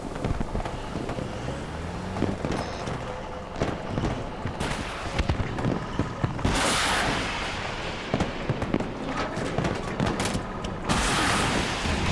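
Video game gunfire in a military shooter, a steady run of single shots and short bursts with loud, dense stretches of firing and wind-like noise, no talk.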